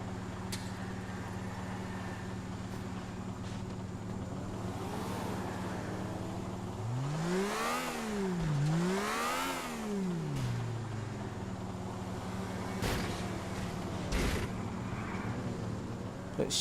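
Car engines revving during a video game race, with a steady engine drone and two rising-and-falling rev sweeps near the middle, plus a few sharp knocks later on; no talking.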